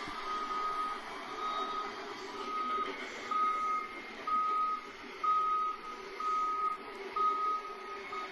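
A truck's reversing alarm beeps steadily at a regular rhythm, about eight evenly spaced tones over a constant engine and background hum, moderately distant and with no talking.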